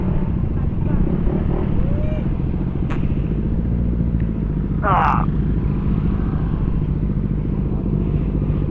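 Honda PCX160 scooter idling on a mountain road to Jariels Peak in Infanta, Quezon, a steady low engine rumble running throughout, with people talking over it and a brief sharper noise midway.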